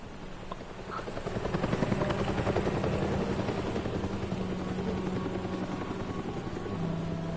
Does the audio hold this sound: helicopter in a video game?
yes